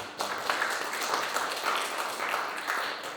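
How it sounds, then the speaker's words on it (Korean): Brief, fairly faint applause from a lecture audience at a public academic seminar, a patter of scattered claps lasting a few seconds before fading. "박수를 굉장히 머뭇거리셨는데"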